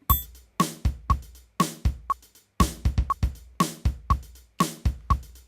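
A metronome app plays a drum groove of hi-hat, snare and kick sounds in a crisp, evenly spaced repeating pattern of sharp clicks and thumps, clear and alone with no talk.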